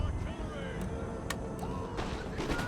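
Artillery cannon fire from a Great Britain army in Empire: Total War, several dull distant booms and sharp cracks scattered over a steady battlefield rumble.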